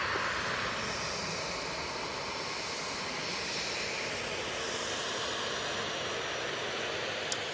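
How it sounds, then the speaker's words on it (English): Ryanair airliner departing Manchester Airport for Dublin, a steady broad jet-engine roar heard from a distance, constant and unbroken throughout. "This Ryanair's off to Dublin."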